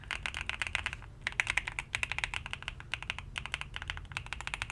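Typing on a GMK67 mechanical keyboard fitted with lubed switches, a close, steady stream of soft thocky keystrokes in quick runs broken by brief pauses, with no voices.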